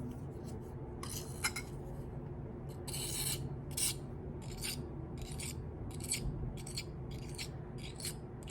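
Ground rock pigment being scraped out into a small pan, with close, intermittent rasping scrapes in short irregular strokes over a quiet background.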